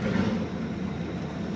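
An LT1 engine with a misfire and stumble idles in a steady low, rough rumble, its uneven beat close and continuous with no voices.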